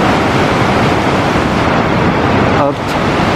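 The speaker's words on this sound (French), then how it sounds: "Un mini cascade." Constant rushing roar of a small mountain waterfall in the Cirque de Gavarnie in the Pyrenees, loud, close and unbroken throughout, with a faint wind-like hiss and no talking.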